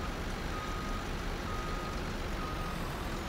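A truck backs up in the Farming Simulator 19 video game, its reversing beeper sounding steadily over a constant loud engine drone, with no talking.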